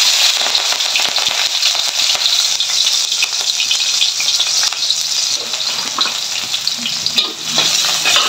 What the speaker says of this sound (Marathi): आता मस्तपैकी तेल गरम झालेले, याच्यामध्ये मिरचीचे तुकडे घालायचे